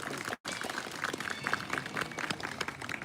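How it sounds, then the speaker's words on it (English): An outdoor audience at a free-flight bird show applauds for Kevin, a long-billed corella, with continuous, fairly distant clapping after a brief drop-out at the start. "How about a massive round of applause for Kevin?"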